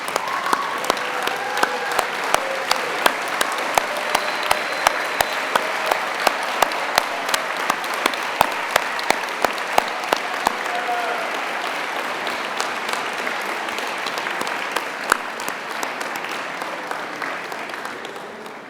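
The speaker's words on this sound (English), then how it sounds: "can you please all stand up and give them a round of applause?" A graduation crowd at an executive MBA commencement gives a long, steady round of applause, dense and even throughout, with sharper individual claps popping out and the sound easing slightly toward the end.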